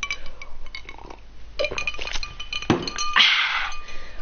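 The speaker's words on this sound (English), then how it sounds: "Sorry, that noise is me drinking my iced water." Ice cubes clinking and rattling in a glass of iced water while someone drinks from it, close and fairly loud, with bright clinks, a knock, and a gulping swirl near the end.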